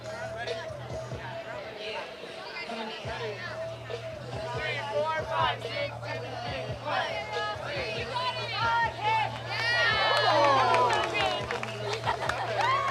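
A big crowd of fans fills the stands at a high school all-state football game in Shawnee, a steady roar of chatter and cheering that swells louder near the end, with a low constant hum beneath.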